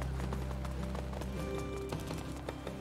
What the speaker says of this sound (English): I'm trying to imitate Jean being a horse.